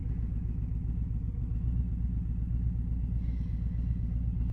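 Motorcycle being ridden, a steady low engine rumble with constant road and wind noise, close and unbroken throughout.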